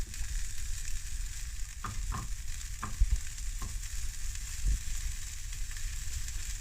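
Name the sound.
bacon frying in a pan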